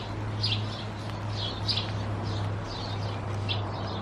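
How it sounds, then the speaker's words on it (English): Small birds chirp in a backyard in short, repeated bursts at a moderate distance, over a steady low hum with no talking. "There's all kinds of birds around here in our yard."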